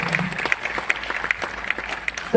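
Steady clapping from a small crowd, a dense patter of hand claps with sharper claps standing out at fairly regular intervals, no voices.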